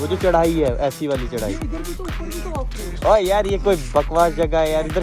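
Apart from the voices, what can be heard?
None of the usual background noises is heard.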